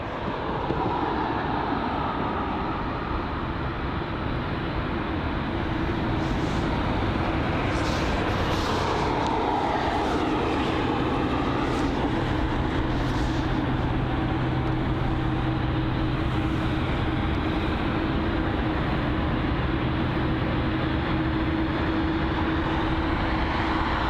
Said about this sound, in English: we're just going to watch the Turkish Airlines Boeing 777 that's just sitting on the tarmac